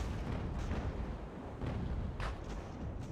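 Sailing-ship cannon fire in a naval battle game, heard as dense, rolling booms that overlap into a continuous rumble with a few sharper bursts standing out, loud and without talk.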